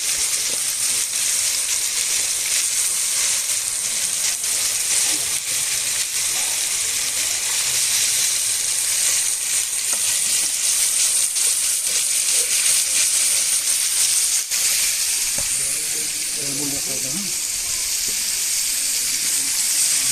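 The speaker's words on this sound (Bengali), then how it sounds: "বন্ধুরা, এবার আমি মাংসটা দিয়ে দিচ্ছি কড়াইয়ে।" About 2 kg of chicken frying hard in a wok, a loud continuous sizzle and steamy hiss with occasional stirring clatters, close and unbroken for the whole stretch.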